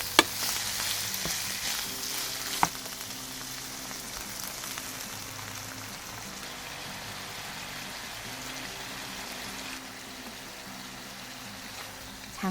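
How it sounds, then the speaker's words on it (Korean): Eel pieces stir-fry with soju in a hot pan, giving a loud, steady sizzle with a couple of sharp clinks from the utensil early on, and no talking. "이제 손질한 장어를 넣어주고 소주 4큰술을 넣어서 볶아줄게요."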